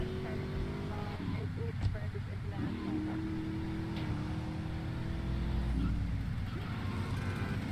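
A car drives in GTA III Remastered, its engine a steady, fairly loud drone that holds a constant pitch and rises slightly near the end, mixed with other game sounds throughout.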